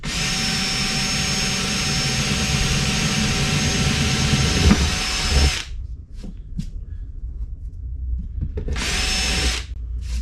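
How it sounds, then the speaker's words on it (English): Power drill boring through a Viking leather saddlebag on a Harley-Davidson Dyna Super Glide, a loud steady whine for about five seconds, then a few short bursts and another run near the end. "And then from there, drill through that one."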